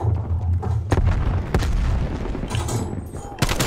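A grenade explodes during an online match of Black Ops Cold War, one of several sharp booms and gunfire bursts over a steady rumbling game soundscape.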